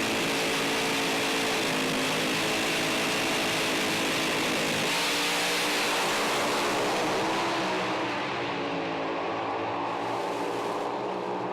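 Pro slammer drag cars, John Zappia against Chapman, roar down the strip in a loud, sustained blast of engine noise that eases slightly and thins out in the last few seconds.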